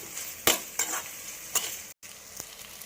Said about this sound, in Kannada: ಈಗ ಟೊಮೆಟೊ ಸ್ವಲ್ಪ ಮೆತ್ತಗಾಗೋವರೆಗೂ ಫ್ರೈ ಮಾಡ್ಕೊತೀನಿ